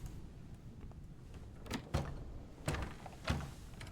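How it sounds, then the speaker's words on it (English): A stuck door in the ship's hold in the video game Return of the Obra Dinn rattles and thunks as it is tried, giving three or four short knocking jolts over a low ambient hum, with no speech. "This door does not want to give."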